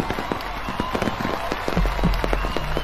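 Fireworks burst at a yearly early-June town celebration with a parade and carnival, a rapid string of sharp cracks and pops crowding together over a steady background rumble.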